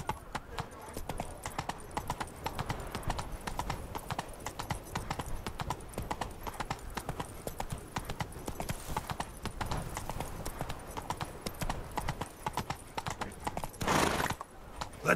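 Roach, the horse in The Witcher 3, galloping with a fast, steady clip-clop of hooves close up throughout, with brief talk over it and a short burst of louder noise near the end.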